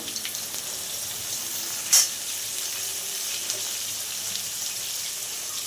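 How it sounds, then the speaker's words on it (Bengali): Potatoes dusted with turmeric powder fry in a pan with a steady, close sizzle and hiss throughout, broken by one brief clatter of stirring near the middle. "এবারে সুন্দর করে আলুটা লাল লাল করে ভাজবো বন্ধুরা"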